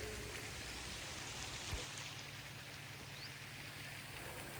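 Rain falls steadily over a flower garden in Betong, Thailand, as a soft, even, continuous hiss of patter with no pauses, faint and distant in feel.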